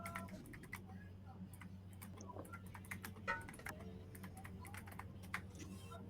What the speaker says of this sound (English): He's typing.